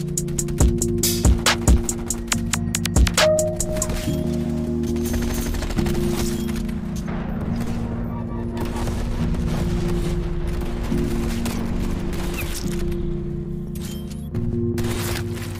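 Rapid video game gunfire in WMD, bursts of sharp automatic shots in the first seconds followed by clattering mechanical weapon noises and a sustained droning hum over a busy, loud mix.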